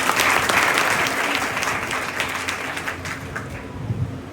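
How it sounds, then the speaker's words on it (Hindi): Loud, dense applause from a seated audience at a Bihar police constable final-selection honour ceremony, welcoming a young woman recruit; steady clapping runs throughout with crowd murmur underneath. "जोरदार ताली से स्वागत करें।"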